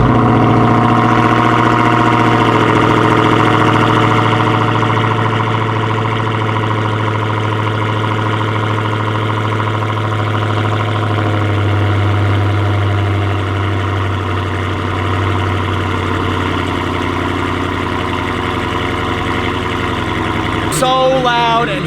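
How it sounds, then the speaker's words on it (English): Dodge Challenger Hellcat V8 engine on a cold start, a loud, steady high idle with a deep rumble holding for about twenty seconds before a brief shift in tone at the end. "Here is a cold start of the Hellcat."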